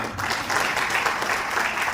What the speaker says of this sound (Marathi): आपण त्यांच्यासाठी टाळ्या वाजवायत का?